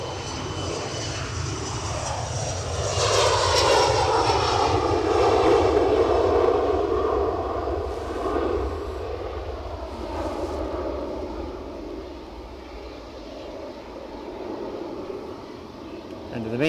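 Airliner departing Edinburgh Airport on an early Stornoway flight, a broad engine roar swelling over the first few seconds then holding steady and slowly fading, with a voice talking over it.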